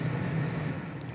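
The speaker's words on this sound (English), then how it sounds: "I've got a dehumidifier." A dehumidifier runs in a basement with a steady, low droning hum and faint airy noise, continuous and unchanging with no talk over it.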